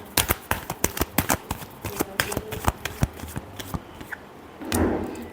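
Tarot cards being shuffled by hand in a run of crisp, rapid flicks and riffles, close and clear, ending in a brief rougher burst of card noise; no voices.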